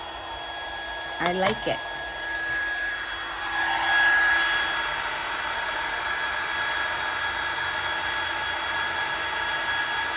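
A heat tool runs for heat embossing a card on a heat-resistant mat, giving a steady blowing hiss throughout that swells briefly near the start; a short burst of speech comes early over the hum.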